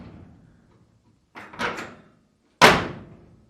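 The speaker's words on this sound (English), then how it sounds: "I want to get one more door slam in just so we can hear how clunky this old latch is." An old wooden door with a clunky latch slams twice: a softer double knock first, then a louder, sharper bang with a rattling latch, close up in a quiet room with no talking.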